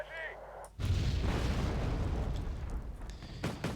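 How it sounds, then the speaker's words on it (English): A single heavy artillery blast from an AMX AUF-1 self-propelled gun in the Wargame Red Dragon strategy game booms suddenly after a short faint lead-in, then rumbles and decays over several seconds with smaller distant thuds toward the end. "Now he's firing artillery at the Shilka"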